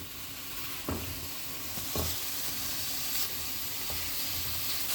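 Chopped onions sauté in a pan over a medium flame, a steady close sizzle and hiss running throughout, broken by a few soft scraping stirs.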